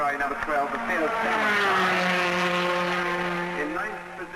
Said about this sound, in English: Amplified by tape recordings made by landlord George Allenson at historic motor race meetings